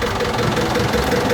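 A restored boat engine, just started, runs at a steady idle with a fast even knocking pulse, loud and close, with no talking over it.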